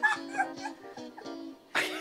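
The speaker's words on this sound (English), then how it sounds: "A dog barking? Yeah, I've seen a dog barking." A dog gives a quick run of high, yelping barks and whimpers, several short close calls packed into about two seconds, with a louder yip at the end.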